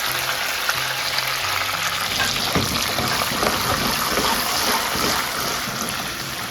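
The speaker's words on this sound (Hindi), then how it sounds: "और हरी मिर्च जो है थोड़ी सी वो फ्राई हो जाए।" Green chilies sizzle in hot tempering oil with coriander for a Sabat Masoor dish, giving a steady, loud frying hiss that continues unbroken throughout with no talking.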